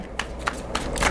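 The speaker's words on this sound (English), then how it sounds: "2 more shuffles." A tarot deck being shuffled for a nine-card spread, giving a few quick riffling bursts close up and fairly quiet, with no voices.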